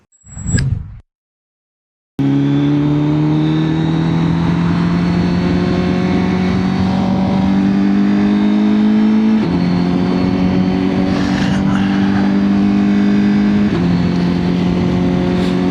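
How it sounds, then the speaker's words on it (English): Honda CBR1000RR-R SP Fireblade sportbike riding on the road in cool weather, its engine droning steadily and loud close by with wind rush, stepping up in pitch through a few gear changes after a short blip and silence. "Let's jump on the bike and find out."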